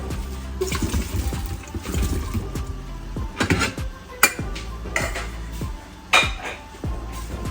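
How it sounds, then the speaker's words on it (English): Pork and vegetables tossed together with two spoons in a bowl or pan, repeated close metallic scrapes, clinks and knocks in an irregular rhythm, with a couple of louder clanks and moist squelches between. "And I normally use 2 spoons and just mix it all together"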